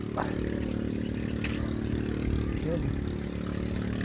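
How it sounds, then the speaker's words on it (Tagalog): Motorcycle engine running steadily while riding around Looc, Balete, Batangas, a continuous low drone with some clatter and a passing rise in pitch, loud and close throughout. "Dala ko yung motor namin."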